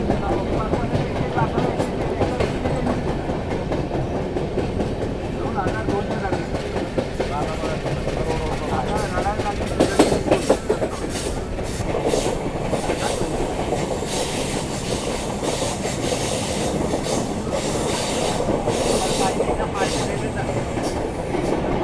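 Sleeper-class train travelling from Indore to Pune, a steady loud rumble with rhythmic wheel clatter throughout and louder, brighter rattling near the middle, voices murmuring beneath it.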